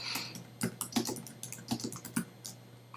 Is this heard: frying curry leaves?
no